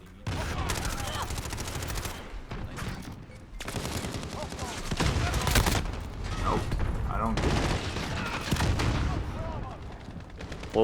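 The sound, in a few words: MP5 gunfire in the video game Call of Duty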